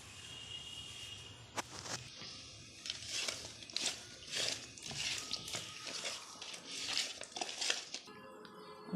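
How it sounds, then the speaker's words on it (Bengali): A wok set down on a gas stove burner, with metallic clanks and scrapes of cookware in a home kitchen, uneven and fairly quiet, with scattered handling knocks. "গ্যাসের উপরে কড়াইটা বসিয়ে দিয়েছি। কড়াইটা গরম হোক।"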